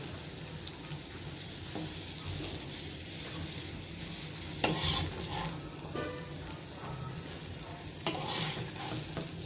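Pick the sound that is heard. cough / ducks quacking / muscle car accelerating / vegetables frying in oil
vegetables frying in oil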